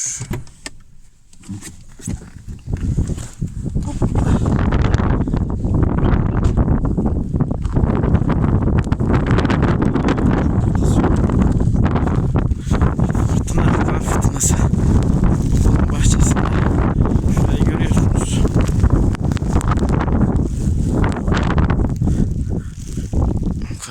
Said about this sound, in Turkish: Esiyor.